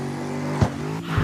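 A car engine in the CarX Street racing game, fitted with an Aston Martin engine, holds a loud, steady harmonic drone with brief pitch dips and swells, and no talking.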